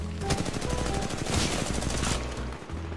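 Rapid automatic gunfire from the shooter Titanfall 2, dense bursts of shots rattling continuously for three seconds over a loud, busy game mix.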